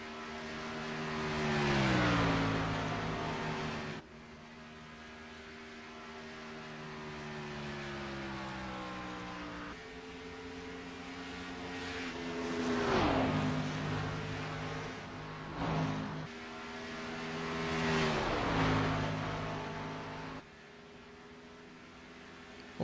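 Race cars, including the number 8 Gunther Datsun leading, roar through a Texas 200 event: sustained engine whine that rises and falls in pitch across several loud passes and fades, with no talking.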